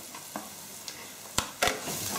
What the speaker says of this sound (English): Good stir again